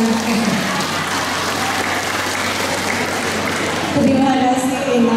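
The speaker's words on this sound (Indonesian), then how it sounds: "Tepuk tangan dong untuk saya." A hall audience at a monthly church service in Jakarta gives a dense round of applause, steady and fairly loud, with voices mixed in beneath the clapping.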